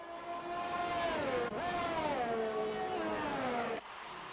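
Formula 1 race cars, a McLaren and a Haas, in a racing video game, engines droning and shifting pitch steadily for about four seconds before cutting off abruptly near the end.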